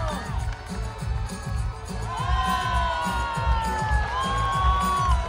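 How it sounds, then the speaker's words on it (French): A crowd at an outdoor equestrian show, a medieval-themed horse spectacle, cheers and whoops loudly and continuously, with voices rising over a rhythmic low thumping underneath. "On l'applaudit bien fort le seigneur de la Roche-Brillard."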